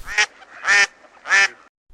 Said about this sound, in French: Elle se compose du canard, de la cane